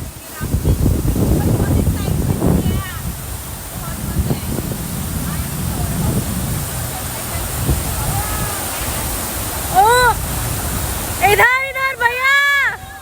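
Fast-flowing water of the Beas river in Kullu roars loudly and steadily with wind buffeting the microphone, while voices shout and whoop over it toward the end.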